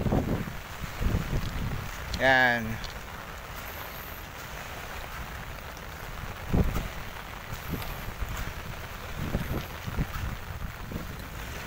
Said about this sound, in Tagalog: So, yung hangin po na nararamdaman natin dito, malakas po, no?